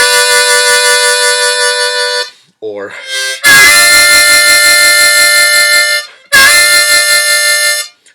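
A blues harmonica sounds a raspy, dirty 4-hole draw chord with the note above ringing, in two loud sustained bursts separated by a short gap and a brief breathy fragment, with a word spoken near the start.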